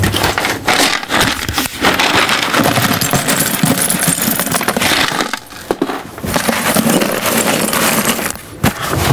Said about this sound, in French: on va mettre le drainage dans notre pot.